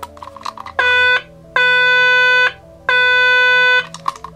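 Three loud, steady electronic warning tones from a 1985 G.I. Joe U.S.S. Flagg aircraft carrier toy's backing-up siren, each lasting about a second, separated by short gaps, with faint clicks in between.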